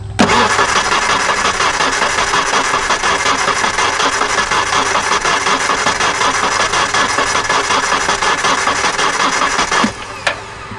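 Old Ford Ranger pickup bought for $350, engine cranking in a long, loud, steady churning run close by before cutting off abruptly near the end.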